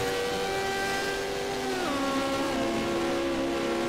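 A Porsche race car, number 47, climbs the Rampa da Falperra hill climb at speed, its engine droning loudly, then dropping in pitch as it shifts and pulls on, with no voices.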